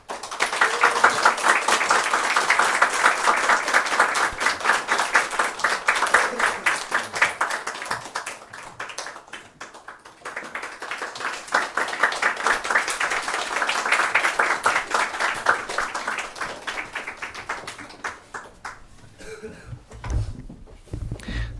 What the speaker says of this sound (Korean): 우리 격려의 박수로 함께 해주시면 감사하겠습니다